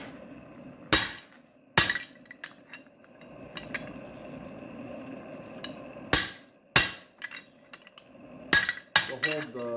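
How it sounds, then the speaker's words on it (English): Hammer blows ring on hot steel while a shoulder is forged for a square tenon, sharp metallic strikes in irregular clusters over a low background hum, close by. "I'm gonna cut a shoulder here because we're gonna forge a square tenon."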